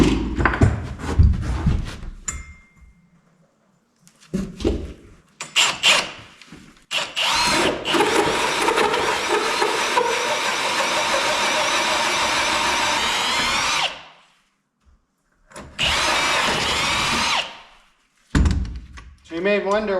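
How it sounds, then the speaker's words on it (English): A power drill bores through a wooden beam in long grinding bursts, stopping and restarting, with knocks and handling noises between runs. "I gotta drill it like right on the edge"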